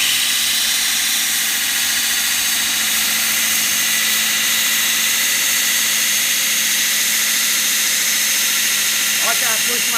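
A 1.5 horsepower Noob belt grinder runs with a Blaze belt while a knife is ground against it, giving a loud, steady whine and roar that holds for the whole stretch with no voices.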